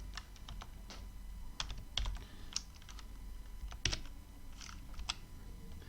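Keys clatter on a computer keyboard while Python code is typed, a quiet run of irregular clicks with a few louder taps and short pauses between bursts.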